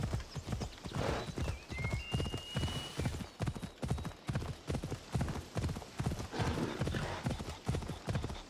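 Hoofbeats of a horse galloping in the video game Assassin's Creed Odyssey, a steady rapid clip-clop rhythm close and loud throughout, with a brief whinny and a faint voice calling out.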